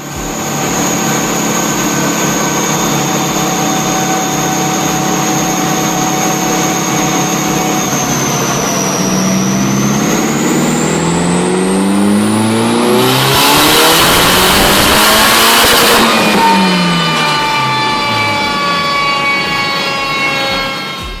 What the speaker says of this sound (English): So I'll run a quick rolling road run now, and then I'll release the power.